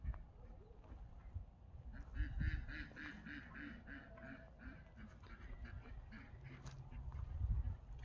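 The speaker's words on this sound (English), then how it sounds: "Ducks woke her up." Ducks quack in a run of repeated calls on a farm with livestock, moderately distant over low outdoor rumble and faint background noise.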